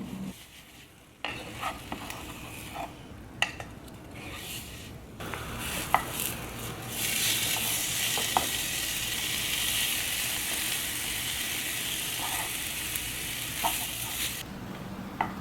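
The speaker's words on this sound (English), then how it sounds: "Return to high heat and continue to flip and cook the tofu until it is browned to your liking." Slabs of tofu fry in a pan with spices over high heat, a steady loud sizzle with scattered clicks and taps of flipping, close by and without speech.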